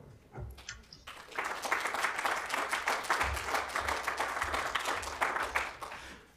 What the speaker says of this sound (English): I hope you heard the applause in the room